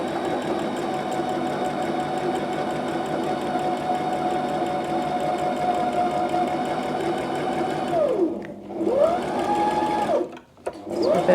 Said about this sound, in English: I'm going to do a few stitches and then push down the reverse stitch